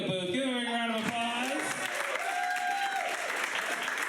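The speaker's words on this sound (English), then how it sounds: "Give him a round of applause" An audience claps steadily while a person speaks over the applause, which continues after the voice fades.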